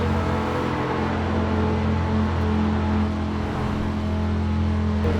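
Audi R8 V10 Plus engine in sixth gear in the Forza racing game, a steady, loud, sustained engine drone holding a constant pitch throughout, with no talking.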